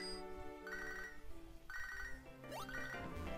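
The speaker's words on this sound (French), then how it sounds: "J'en ai marre de ce téléphone qui sonne" A telephone in a video game rings repeatedly in a steady electronic pattern, bright tonal bursts recurring about every second over soft game background music, with no talking.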